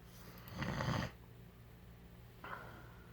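An antique brass Fasco World's Fair model 962 ceiling fan with a rubber flywheel runs noisily, a steady low rumbling whir that swells into two rougher surges, heard quietly and close with no voices.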